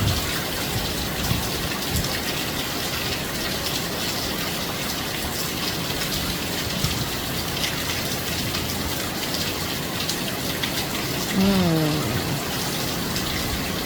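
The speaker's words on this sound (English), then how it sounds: "Listen to the sound of the rain, guys. Just listen." Heavy rain pours down steadily, a dense, loud, unbroken wash of drops with no voices.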